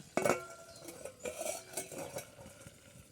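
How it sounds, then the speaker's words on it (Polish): A metal lid goes onto a pan of chicken legs frying in butter on a small stove in the woods. A sharp clatter is followed by a few lighter clinks and scrapes, close and fairly quiet. "Przykryjemy ponownie dekielkiem."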